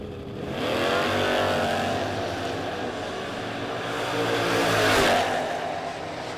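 Drag race cars launch at a footbrake drag racing event, including Nick Kay's Thrasher Chevy II, with loud, sustained engine roars and revving that swell and then peak near the end.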